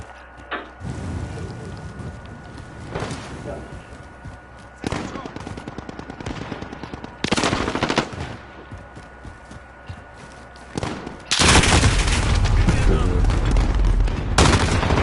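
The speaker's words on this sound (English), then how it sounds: "Enemy sentry gun active." A sentry gun fires in Call of Duty Modern Warfare, bursts of rapid automatic gunfire coming in loud clusters with heavier sustained shooting toward the end, alongside other battle noise and voices.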